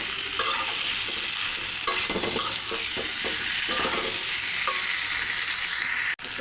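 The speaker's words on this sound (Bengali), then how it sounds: "এবার মশলার সঙ্গে ভালো করে কষিয়ে নেব।" Potato and pointed gourd being stir-fried with spice paste in a pan: a steady, close hiss of frying with repeated scraping strokes of a spatula, continuous throughout and no talking.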